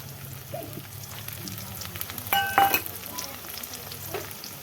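Onions and tomatoes fry in a pan for a spiny gourd (kantola) curry, a soft, close sizzle with scattered stirring scrapes and a brief clatter of utensils midway.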